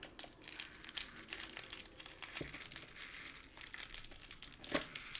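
Crinkly plastic packaging around ribbon is opened close up, with quiet irregular rustling and crackling plus a couple of sharper crunches, continuous for about five seconds with no speech.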